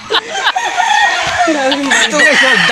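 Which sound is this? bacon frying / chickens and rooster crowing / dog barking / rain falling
chickens and rooster crowing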